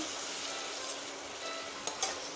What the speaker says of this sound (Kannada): ಹತ್ತರಿಂದ ಹನ್ನೆರಡು ಗೋಡಂಬಿನೂ ಸಹ ಸೇರಿಸಿ ಇದನ್ನು ಫ್ರೈ ಮಾಡ್ತಾ ಇದ್ದೀನಿ